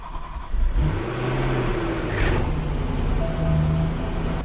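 A salvage BMW E92 M3 engine starts up after a brief quiet moment, then settles into a loud, steady, close-up idle rumble with a slight rise in revs partway through, and no talking.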